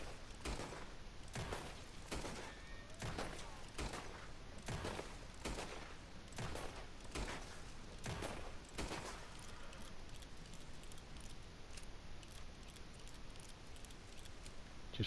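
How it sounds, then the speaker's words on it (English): A run of evenly spaced metallic clicks and clacks as dual pistols are reloaded in Red Dead Redemption 2, about a dozen sharp hits in steady rhythm over a constant hiss, then the clicking stops and only the noisy bed remains. "Just reloading there."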